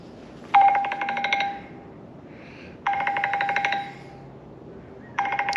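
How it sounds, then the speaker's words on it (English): A telephone rings in three electronic bursts, each about a second long and separated by pauses, fairly close and clear with no talking. "my phone's ringing"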